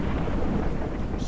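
Heavy downpour with thunder rumbling in the survival video game Mist Survival, a dense, steady roar of rain and low rumble filling a short moment without pause.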